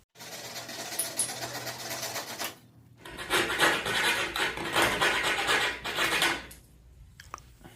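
Hand coping and back-cutting of crown molding makes a rasping, rubbing cut that starts, pauses briefly and resumes louder in steady strokes close by.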